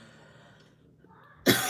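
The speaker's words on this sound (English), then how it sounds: "What an annoying little cough." A single sharp cough bursts out near the end after a near-silent stretch, close to the microphone, loud and brief with a short tail.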